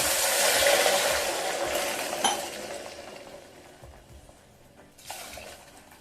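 Water is poured into a pot of roasted moong dal: a splashing, rushing pour that is loudest at first and then tapers, with a metallic clink partway through and a few quieter knocks afterward.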